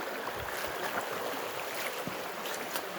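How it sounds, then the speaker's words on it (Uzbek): Spring water seeping out and flowing into a ditch, a quiet continuous gurgling trickle with no talk. "Sizib chiqayotgan suv. Mana shu jamlanganini o'zi mana shu ariqda to'lib oqyapti mana."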